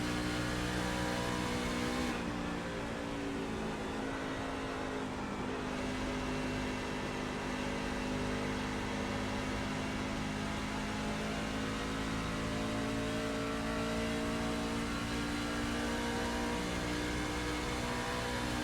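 Simulated NASCAR-style truck engine in iRacing at Homestead, a steady high-pitched drone with smooth harmonic lines rising and easing slightly as the truck laps, loud and continuous with no talk over it.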